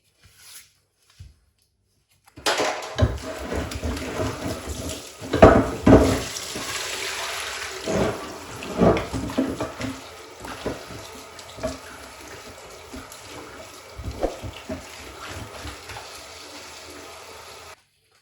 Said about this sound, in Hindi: इनको अच्छी तरह पानी से हम धो लेंगे